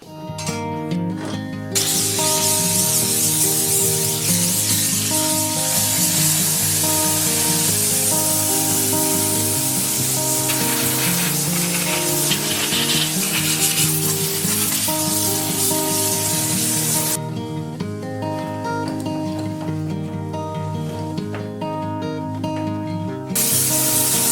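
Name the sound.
steam cleaner blasting the kitchen backsplash and hob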